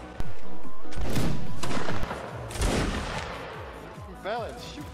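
Loud musket shots in Mount and Blade: Warband, a sharp blast near the start and further cracks following, with people talking over the gunfire.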